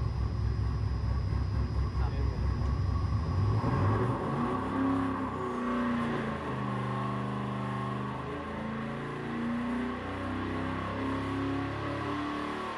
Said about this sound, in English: That motor sounds pretty impressive.